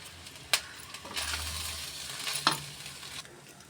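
Chicken fried rice being stirred in a pan, a low sizzle broken by two sharp metallic clinks of the utensil against the pan and a stretch of scraping and tossing between them.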